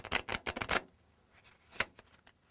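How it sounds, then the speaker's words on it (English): Bursts of rapid card riffling, several quick flutters in a row, then a pause and a few lighter riffles, close up with no talking. "Riffle the deck."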